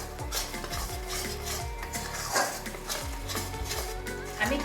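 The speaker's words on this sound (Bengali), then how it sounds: "গ্যাসের ওপরে আমি গুড়টা কিছুক্ষণ নেড়ে নেব" Melted jaggery stirred in a pan over a gas flame, rhythmic scraping and clinking of a utensil against the pan, close and steady, with low frying sizzle beneath.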